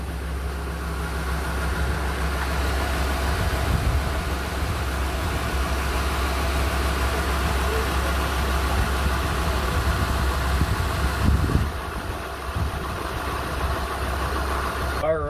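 A 2017 Ford F-450 pickup cruises down the road with a steady, moderately loud low engine drone heard from inside the cab, with faint background noise throughout.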